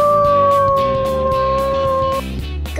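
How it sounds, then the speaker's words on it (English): A wolf gives a long, steady howl that holds its pitch for about two seconds over rhythmic background music, then stops. "Wolf."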